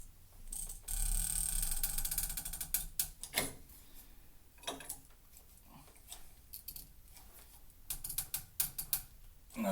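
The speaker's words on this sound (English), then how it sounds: "now I'm going to take the wrench and I'm going to turn it" A wrench turns a compression fitting three-quarters of a turn past finger tight while installing a Maxline air kit in a shop, giving a run of close, irregular metallic clicks and ratcheting ticks with brief pauses between them.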